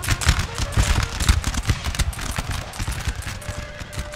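Infantry in Napoleon Total War fire a musket volley, a rapid, crackling fusillade of many overlapping shots that rattles on unevenly at close range.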